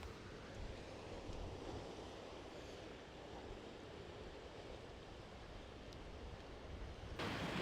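Rough sea washing in at the water's edge, a steady close surf roar mixed with gusty wind buffeting the microphone, with no voices.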